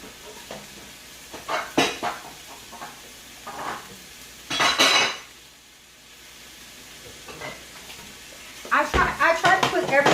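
A plate is picked up and handled in a home kitchen while onions and mushrooms cook for a tofu, spinach and mushroom wrap: scattered clinks and knocks of crockery over light stirring and sizzle, with a brief quiet stretch.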